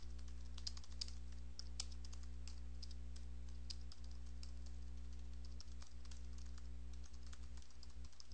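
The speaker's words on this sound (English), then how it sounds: "I can now type some information here." Steady keyboard typing while an email is written on a computer, rapid irregular keystrokes close up over a constant low electrical hum.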